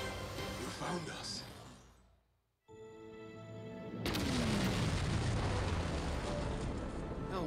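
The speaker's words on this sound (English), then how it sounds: "After the explosion that you really need to worry about." An explosion from a Power Rangers Dino Fury episode erupts after a brief hush as a sudden loud broadband blast, then rolls into a sustained roaring rumble with a falling tone.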